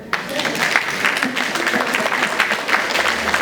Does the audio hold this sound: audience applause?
yes